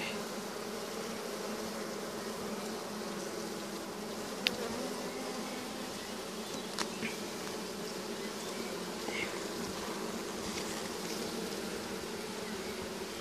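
A dense, steady hum of honey bees fills the air at an open hive, close and continuous, with a few faint clicks and knocks scattered through the buzzing and no voices.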